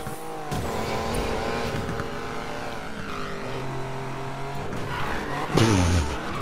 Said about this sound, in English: I was gonna say, I hear a Porsche.